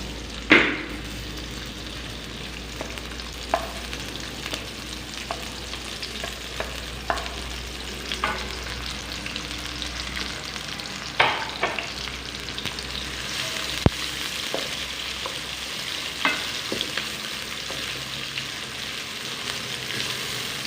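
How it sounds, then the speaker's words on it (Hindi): Onions sizzling and frying in hot oil for aloo palak chicken salan, a steady crackling hiss close by with occasional stirring scrapes and pops throughout, no talking. "ऑयल हमारा यहाँ पे गरम हो चुका है, अब हम डालेंगे प्याज।"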